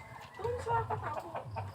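Chickens cluck softly nearby in short, irregular bursts on a farm in Iloilo, Philippines, with some quiet background noise.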